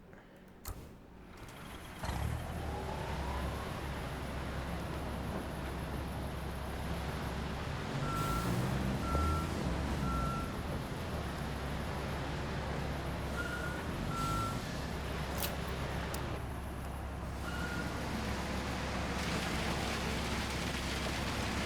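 A concrete truck reverses in the Construction Simulator video game: a rumbling diesel engine runs throughout, broken by several short, evenly spaced backup beeps in small groups.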